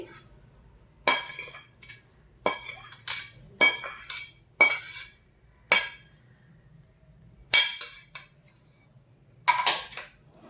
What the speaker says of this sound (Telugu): ఇప్పుడు నేను వాకాయలు వేసుకుంటున్నా అండి